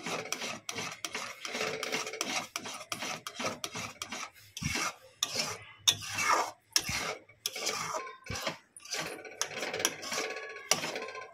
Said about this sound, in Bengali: আমি এইভাবে ধীরে ধীরে ধীরে ধীরে এইভাবে নাড়তে নাড়তে